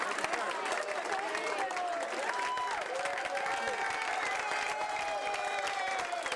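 Airplane passengers applaud returning war veterans aboard a flight, giving sustained, dense clapping throughout with a steady level of crowd noise. No one speaks clearly over it.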